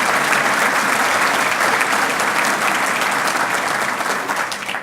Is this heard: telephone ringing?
no